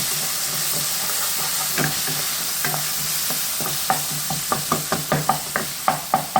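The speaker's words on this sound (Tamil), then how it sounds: "மஞ்சத்தூள் போட்டு நல்லா மிக்ஸ் பண்ணுங்கள்." Turmeric powder is stirred into a sizzling fish curry masala in a pan for a village-style fish curry. Under a constant hiss, a spoon scrapes and taps the pan in a quickening rhythm of sharp knocks, close by and with no talking.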